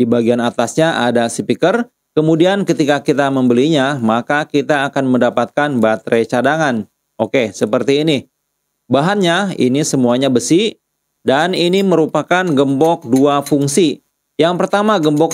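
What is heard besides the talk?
None of the usual background noises is heard.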